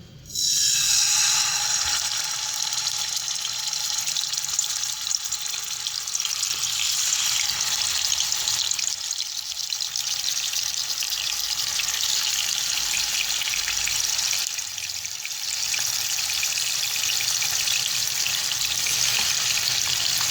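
Marinated chicken pieces fry in hot oil in a pan, giving a loud, steady, bright sizzle that runs unbroken for about twenty seconds with no talking.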